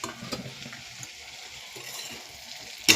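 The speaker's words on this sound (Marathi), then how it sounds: "चांगलं तेल सुटल्यानंतरनं ह्याच्यामध्ये ह्या अंड्याच्या फोडी उकडलेल्या मी टाकत आहे." Boiled egg pieces dropped into hot oil fry with a soft, steady sizzle close by, then a sharp clatter of a utensil against the pan right at the end.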